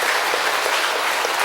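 Loud, dense applause from a church congregation at an evangelism service, a continuous roar of many clapping hands at close range, steady and unbroken.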